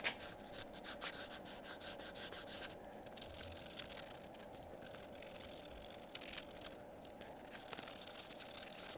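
Paint is rubbed off the surfaces of an oil pan on a VW ALH engine, a close, quiet, continuous scrubbing with rhythmic back-and-forth strokes.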